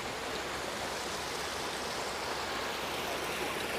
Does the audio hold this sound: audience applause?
no